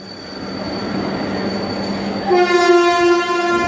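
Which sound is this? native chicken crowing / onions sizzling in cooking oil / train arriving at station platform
train arriving at station platform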